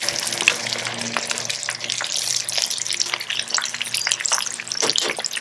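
Escovitch fish fries in a pot of hot oil for Jamaican Sunday lunch, making a dense, continuous crackling sizzle with bursts of popping spatter throughout, close and fairly loud, with no voices.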